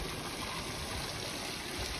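Steady broadband rush of water trickling and flowing from the Fontaine des Incas, a pipe-like outflow, continuous and even at moderate distance with no voices.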